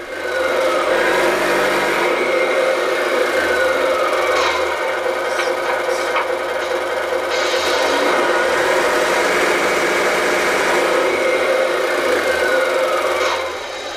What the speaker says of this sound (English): Now I can turn up the engine without moving the truck.